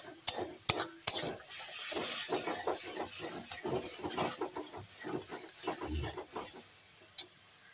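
A pan of Kashmiri chilli powder, coriander powder and meat masala being stirred, with a string of scraping strokes over a soft sizzle, several sharp clinks of the utensil against the pan near the start.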